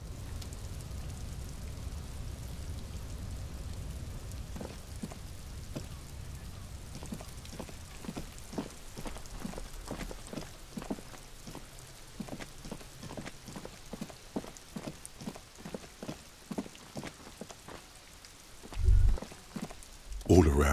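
Steady rainfall in the video game Disco Elysium patters on surfaces, joined midway by a quick regular series of dripping taps, fairly quiet, with a couple of louder knocks near the end.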